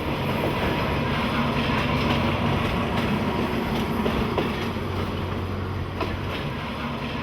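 A regular stopping train heads to the airport, heard from inside the carriage as a loud, continuous rumble with steady wheel clatter, a low droning hum and faint squeals.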